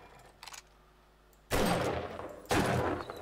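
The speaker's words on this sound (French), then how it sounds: "J'entends des coups de feu, c'est normal." Two loud bursts of rapid gunfire in the video game 7 Days to Die, about a second apart, each a harsh crackling volley, with faint quieter sounds before them.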